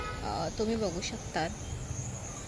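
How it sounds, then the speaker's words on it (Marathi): Crickets chirp at night outside a resort room in Nagaon, a thin, steady high trill running throughout beneath a man's nearby speech. "जर तुम्ही नीट ऐकलात तर कदाचित रातकिड्यांचा आवाजही तुम्हाला ऐकू येईल"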